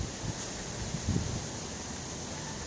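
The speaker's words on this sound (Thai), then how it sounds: "ลมแรงมาก" Strong wind blowing outdoors around potted plants and strawberries, a steady broadband roar with brief gusty buffets against the microphone and no talking.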